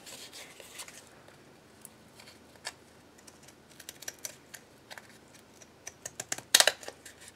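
Decorative scissors snip along the edge of chipboard, giving a run of faint, irregular cuts that pick up into quicker, sharper clips near the end, close by and alone.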